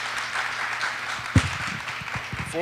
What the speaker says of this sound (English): let's give Luiz a round of applause again for a great presentation